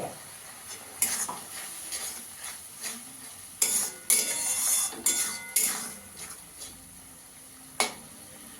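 Spice paste with cumin, coriander and chili powder sautéed in oil in a pan for a Bengali fish kalia, soft sizzling under repeated scraping and clinking of a spoon against the pan in irregular bursts.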